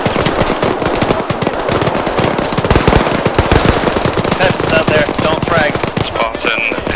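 Rapid machine gun fire crackles through a video game battle, dense, loud bursts running nonstop for the whole stretch with a voice briefly audible beneath the gunfire.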